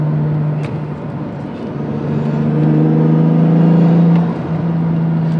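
Toyota Supra accelerating from inside the cabin, a steady engine drone climbing in pitch and loudness over a few seconds before easing off, with no talk over it.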